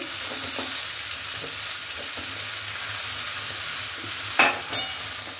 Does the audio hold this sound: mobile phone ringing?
no